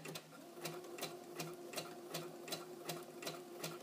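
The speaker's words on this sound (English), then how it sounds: "nudging these 2 pieces of fabric together right before they go under my presser foot" A sewing machine stitches two pieces of fabric fed edge to edge under the presser foot, giving a steady, even run of quick mechanical needle strikes, close and moderately quiet, with no talking.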